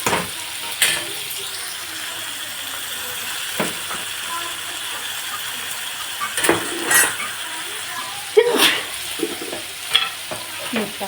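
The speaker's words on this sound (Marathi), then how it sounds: "कांदा मिरच्या मस्त तळल्या गेलेल्या आहे, लसूण त्याच्यात आपल्याला टमाटे टाकून घेऊ," Chopped tomatoes hit hot oil already frying onion, green chillies, garlic and turmeric in a home kitchen pan, a steady close sizzle with occasional spoon stirring and scraping clinks against the pan.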